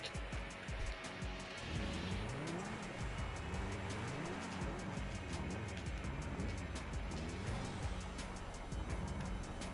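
Progen T20 supercar in Grand Theft Auto 5, its engine droning continuously with rising and falling revs and busy road ambience, with no voices over it.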